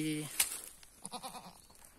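A goat bleats after giving birth to two kids, its calls fairly quiet and close, with a short wavering cry and pulsing murmurs mixed with people talking nearby.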